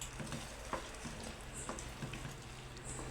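Pearl millet halwa with ghee is stirred in a pan: soft scraping strokes and faint sizzling close by, repeating irregularly with no talk.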